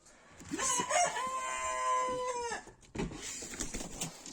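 A rooster recovering after treatment gives one full, drawn-out crow, heard fairly close amid farmyard background, followed by softer clucking and rustling.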